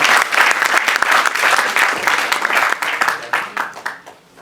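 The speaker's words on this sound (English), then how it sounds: "Can I have a huge round of applause for this great achievement?" An audience bursts into loud, dense applause at an award ceremony during an invited talk, the clapping strong at first and then thinning and tapering off toward the end.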